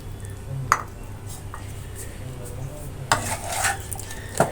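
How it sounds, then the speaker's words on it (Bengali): Spiced liver being stir-fried in oil in a pan, with metal utensil scrapes and clinks against the pan standing out over a soft, steady sizzle, nearby and moderately loud. "মশলা দেওয়ার পরে কলিজা বেশ কিছুক্ষণ কষাই নিলাম"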